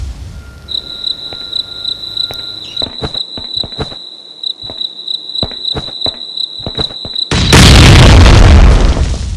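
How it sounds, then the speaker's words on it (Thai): Explosions boom overhead in the survival game Last Island of Survival: a high steady tone and repeated sharp thuds and pops are capped by one big, loud, roaring blast near the end. "แล้วข้างบนเขาระเบิดกันสนั่นเลย"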